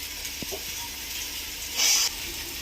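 Ginger-garlic paste being stirred into frying onions for a tomato egg curry, a steady soft sizzle throughout with a brief louder hiss burst near the end and occasional faint spoon scrapes.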